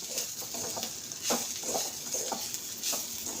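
Semolina frying in a pan with mixed vegetables for upma, stirred with a spoon: a steady soft sizzle with several brief scraping strokes and clinks, close and moderately loud, with no voices.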